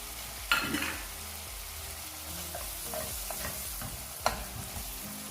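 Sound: beef pickle with vinegar boiling and being stirred

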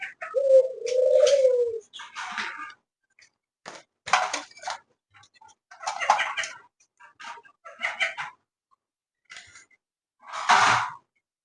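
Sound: pet doves cooing

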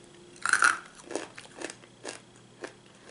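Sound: chewing crunchy corn kernels

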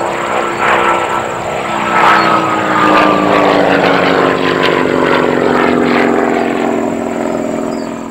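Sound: Percival Provost piston-engine aircraft flying

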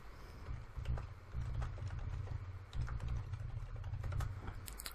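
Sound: typing a password on a computer keyboard

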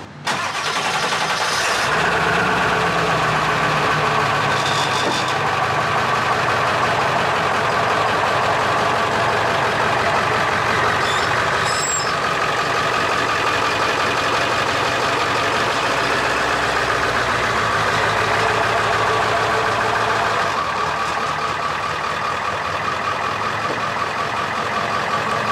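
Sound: diesel van engine idling while backing up

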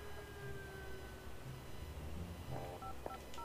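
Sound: phone call dialing in video game Destroy All Humans! 2

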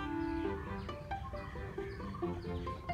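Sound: birds calling in a park in Bangalore

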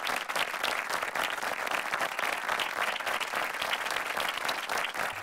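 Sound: audience applause

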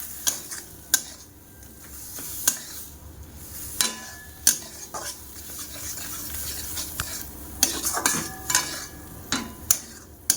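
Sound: black cumin tempering in oil with ground paste

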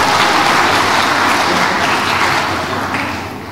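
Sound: audience applause at a lecture

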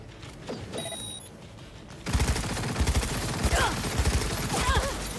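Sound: gunfire shooting at the player in the video game Cyberpunk 2077

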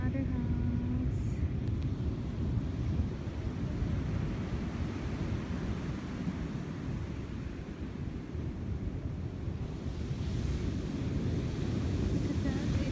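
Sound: ocean waves and wind at Southampton beach

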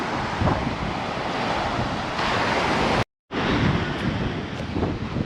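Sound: strong wind at the seaside

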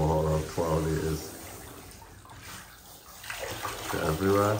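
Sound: water running from tap into bath while washing husky

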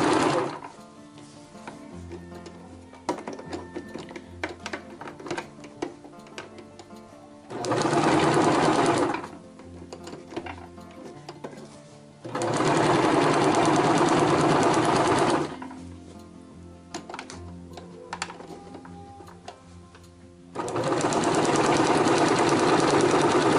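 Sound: sewing machine stitching fabric for a tissue holder

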